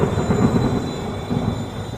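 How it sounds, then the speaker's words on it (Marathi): A deep, continuous rumble of thunder rolls through a stormy evening in a horror story, heavy and close with no voices over it. "कळकळ विजा चमकत होत्या"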